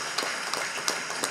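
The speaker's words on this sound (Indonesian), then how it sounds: "Beri tepuk tangan pada mereka semua." Audience clapping at a political convention hall, a steady wash of many hands applauding with a few louder claps standing out, filling the room without speech.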